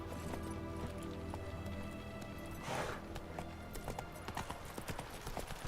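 Roach the horse trots in The Witcher 3 video game, with steady rhythmic clip-clop hoofbeats up close, a brief whoosh midway, and faint game ambience underneath.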